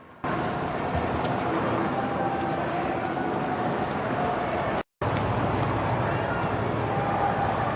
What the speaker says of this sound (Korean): 이제는 다른 의미로 들리는 헬리콥터 소리